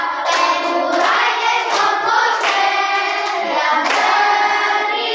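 A classroom of children clapping along with a teacher, rhythmic group claps mixed with chanting voices, loud and close over about five seconds.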